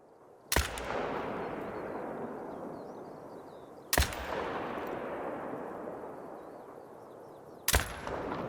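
Three single shots from a Zarza-10 .308 rifle in the hunting game theHunter: Call of the Wild, each a loud sharp crack followed by a long rolling echo that fades out, spaced a few seconds apart with no talk.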